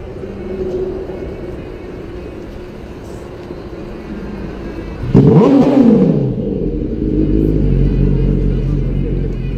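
A Honda Transalp 650 motorcycle rides out on an open field, a steady engine drone that swells into a loud revving pass about halfway through, then settles into a lower rumble.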